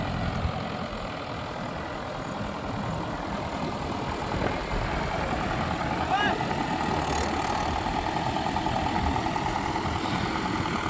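A stuck tractor idles with a steady low engine drone, both wheels sunk in a farm field while wood is wedged under them to free it; a voice talks over the engine throughout.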